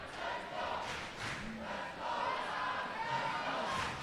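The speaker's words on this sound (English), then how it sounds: "So the crowd's cheering very loudly at the moment." A crowd at a women's volleyball match cheers and shouts in a steady, moderately loud roar of many voices, heard from within the venue with no single voice standing out.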